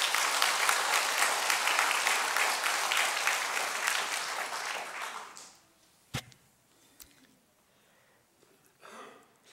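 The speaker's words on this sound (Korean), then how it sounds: "여러분들 격려의 박수 한번 부탁을 드립니다" A church congregation applauding in encouragement, loud dense clapping for about five seconds that then stops abruptly, followed by quiet room noise, a couple of sharp knocks and a short spoken phrase.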